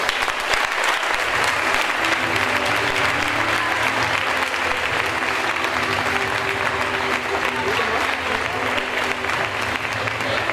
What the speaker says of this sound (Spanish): Un fuerte aplauso para ella.